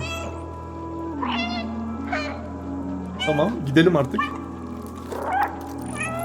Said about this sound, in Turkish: Ah miyavlıyor. Ah Miyavlama tuşu buldum.